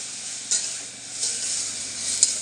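Kuska rice with tomato being sautéed in a pan: a steady, close sizzle runs throughout, broken by a few soft scraping stirs and no talking.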